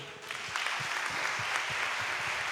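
A church congregation at a special testimony service claps together: a short, steady wash of applause that holds at even loudness throughout, with no voices standing out.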